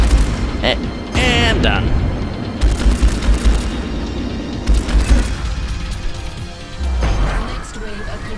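Explosions and gunfire as targets are destroyed in the space combat game Strike Suit Zero, with loud booms, crashes and rattling bursts under a man's speech.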